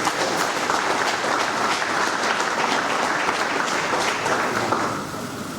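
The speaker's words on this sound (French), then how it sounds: "je pense que les postiers qui sont ici peuvent applaudir pour eux" Postal workers attending a Pan-African postal union conference closing session applaud in a full, dense burst of clapping that stays loud and even before easing off in the final second.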